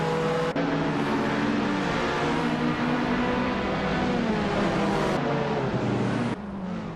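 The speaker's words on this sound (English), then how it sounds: "driving a 1967 Abarth 1000 Berliner Corsa" Engine of a 1967 Abarth 1000 Berliner Corsa racing car in a racing video game, a steady loud drone held for most of the clip, with a brief cut near the start and a drop in level near the end.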